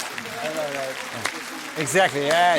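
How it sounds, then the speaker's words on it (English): Audience applause at a stand-up comedy show in Bucharest, a low, even clapping bed running beneath a comedian's nearby talking. "Clap with envy."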